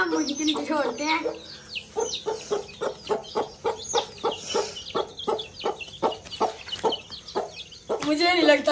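A hen clucks steadily in rapid, evenly spaced short notes, close by, with a few higher chirps from chicks settling underneath her and a voice speaking at the start and end.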